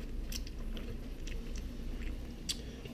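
Ramen with chunks of freeze-dried kimchi is chewed close up, with soft crunchy bites and wet mouth sounds repeating irregularly under a low steady background hum.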